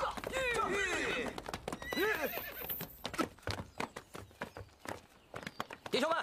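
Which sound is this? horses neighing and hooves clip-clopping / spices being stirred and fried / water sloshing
horses neighing and hooves clip-clopping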